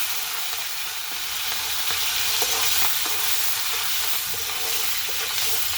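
Prawns fry in oil with dried red chilies and nigella seeds in a wok, a continuous loud sizzle with scattered light scraping taps as they are stirred.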